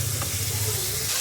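Spice masala for a vegetarian potato dum being stir-cooked in a pan with splashes of water, a continuous dense sizzle and hiss with low stirring rumble throughout the short stretch.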